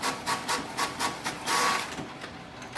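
Canon Maxify GX5020 inkjet printer running a test page: rhythmic bursts of mechanical whirring and rubbing print-head passes, close and moderately loud, with a longer sweep partway through and no talking.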